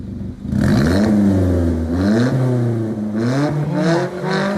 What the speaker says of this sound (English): This is what my car sounded like with my old new exhaust. So a straight pipe Corsa.